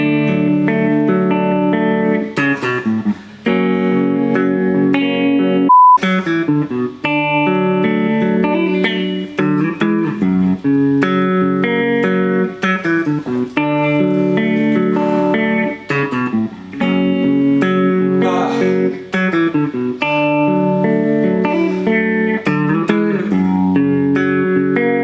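Electric guitar playing a song intro, a loud, clean arpeggiated chord pattern with ringing notes and light effects, played continuously without any voice.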